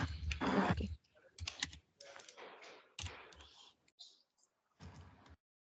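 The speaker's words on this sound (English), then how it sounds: "I'll just type here." Someone types on a computer keyboard while setting up a GitLab CI/CD runner, making quick, close clicking bursts separated by short pauses. A voice talks in between at times.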